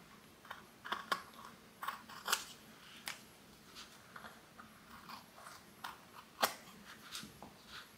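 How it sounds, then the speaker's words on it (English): Scissors cut through paper in a series of crisp, close snips at an uneven pace over a quiet background. "I'm going to do it with scissors because I don't want to use the craft knife"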